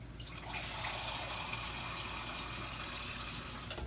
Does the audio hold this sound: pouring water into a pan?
yes